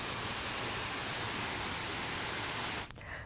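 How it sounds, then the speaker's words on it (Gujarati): Heavy rainwater cascades down the hillside steps at Pavagadh, making a dense, constant roar of rushing water. It stays loud and unbroken, then dips briefly near the end. "ડુંગરના પગથિયા પર કઈ રીતે પાણીનો ધોધ વહી રહ્યો છે તે આપ જોઈ શકો છો"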